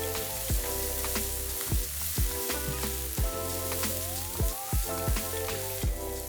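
Zucchini for a frittata sizzles steadily in a hot frying pan, a loud continuous crackle with soft periodic clinks and stirring knocks, no talking.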